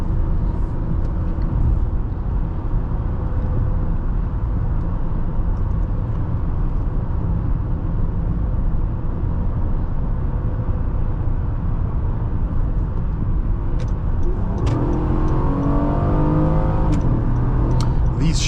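2016 Honda Accord EX-L V6 accelerating through automatic gear shifts, a steady loud engine drone from inside the cabin that rises and changes pitch toward the end.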